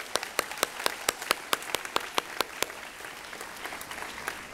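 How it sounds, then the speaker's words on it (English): Applause at a ceremony, with a handful of distinct, sharp claps in a quick, fairly even rhythm over a thin bed of softer clapping, fading a little toward the end. "Let's give them a round of applause"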